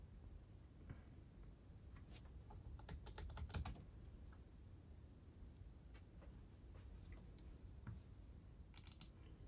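Quiet typing on a computer keyboard during setup of a 2014 Mac mini, with scattered soft keystrokes and a brief flurry of faster clicks, no talking.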